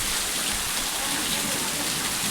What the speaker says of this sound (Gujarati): જેવો વરસાદ ચાલુ થઈ ગયો છે